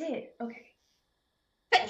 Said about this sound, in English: I really need to sneeze for like the past 5 minutes.